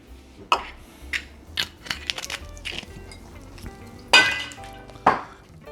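A spoon stirs homemade sugar-free Kahlua coffee liqueur made with Don Q Crystal rum, giving scattered bright clinks and taps against the container, with a couple of louder knocks among softer scrapes.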